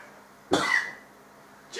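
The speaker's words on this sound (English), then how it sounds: "Gee, I got the cough and everything." A single sharp cough from one person, fairly close, with a brief rasp trailing after it and quiet room tone around it.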